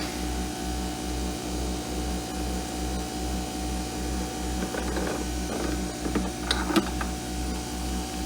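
A Nespresso coffee machine brewing espresso gives off a loud, rhythmic mechanical pumping pulse close by, with small clinks and trickling sounds building toward the end.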